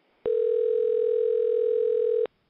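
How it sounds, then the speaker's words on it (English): One long steady electronic tone sounds on an outgoing telephone call, loud and even for about two seconds and then cutting off cleanly, with no other sound. "Oh, ringing."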